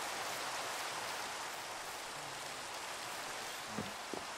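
Steady, hissing Minecraft rainfall pours continuously, with a couple of faint knocks near the end.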